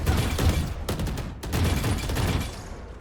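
Rapid automatic fire from a Vandal rifle in the shooter game Valorant, a dense loud burst of shots with a brief pause, then continuing near and steady for about three seconds.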